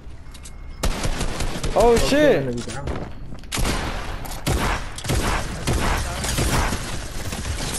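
Video game gunfire rattles in rapid, loud bursts over several seconds, with a short tonal effect near the start. Excited players shout and talk over the shooting.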